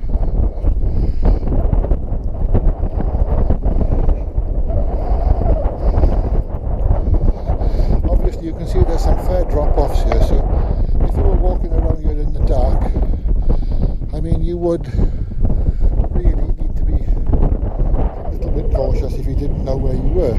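Strong gusts buffet a GoPro microphone on the summit walk of Pen y Fan, a loud constant roar and rumble that swamps the recording while someone talks underneath.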